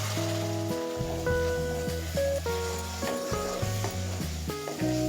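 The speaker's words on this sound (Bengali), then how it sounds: "এবার অল্প পরিমাণে চিকেন স্টক দিয়ে মশলাটাকে ভালো করে কষিয়ে নেব।" Spice masala for dhaba-style chicken bharta sautéed with a splash of chicken stock in a pan: a soft, continuous sizzle with stirring scrapes, mostly masked under prominent background music.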